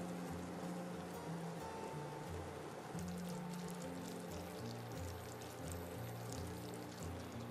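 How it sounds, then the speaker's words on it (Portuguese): Sugar and water for caramel heat in a pan over medium flame, left unstirred until boiling, giving a steady, faint bubbling hiss that runs unbroken throughout. "em fogo médio eu vou deixar aqui sem mexer até levantar fervura"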